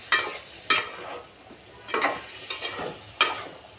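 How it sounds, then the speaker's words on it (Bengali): Nola fish stirred and fried with vegetables in a pan, giving a low steady sizzle broken by several sharp scraping stirs at irregular intervals, close by with no talking. "মাছটা দিয়ে এখন সবজির সাথে একটু নেড়ে চেড়ে কষিয়ে নেব।"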